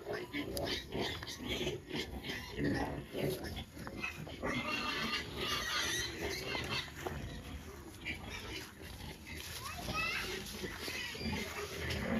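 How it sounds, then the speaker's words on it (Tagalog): Pigs at feeding time keep up a loud, continuous chorus of squeals and grunts close by, with people's voices mixed in throughout. "Tayo naman po magpapakain na ng baboy."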